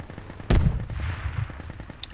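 Machine gun fire in the military shooter game Project Reality: a loud burst at the start followed by steady rapid automatic shots, close and dominant with no talk.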